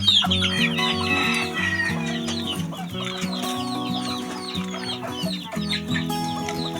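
Backyard Shamo chickens at feeding time on damp feed fill the air with busy, overlapping clucks and calls, close and loud, with no one talking.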